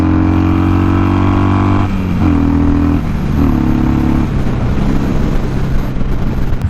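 Harley-Davidson Sportster motorcycle being ridden, its loud engine droning steadily close up, pitch dropping and rising through gear changes with a rumbling exhaust and wind noise.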